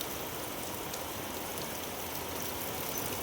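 Heavy rain pours steadily in Surat, drumming on roof eaves above a flooded bullock pen, a dense, even hiss with no voices.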